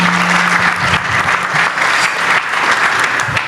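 A gathered audience at an Islamic talk claps for the people who asked questions, a loud, full round of applause that holds steady and close.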